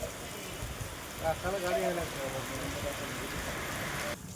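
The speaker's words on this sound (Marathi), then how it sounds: "पाऊस पडलाय बघा चपचपीत सकाळ सकाळी" Morning rain falls as a faint, steady patter beneath people talking nearby.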